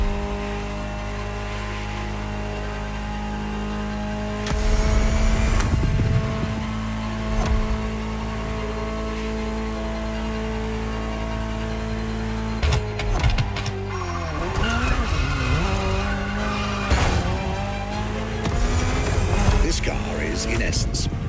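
A Ferrari GTO engine hums and revs in The Crew Motorfest, with a steady tonal drone rising into bursts of acceleration and tire squeal, while someone narrates over it.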